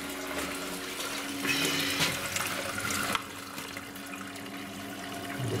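A home heating system for solid-fuel and gas boilers fills with liquid while its circulation pump runs. A continuous rushing, hissing water sound swells louder midway, then drops back to a steadier flow.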